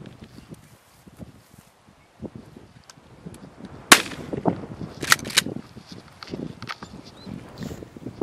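Gunfire rings out during a hunting dog training drill for a versatile hunting dog test. A few sharp cracks, two of them close together, stand out against outdoor rustling and footsteps in a quiet field setting.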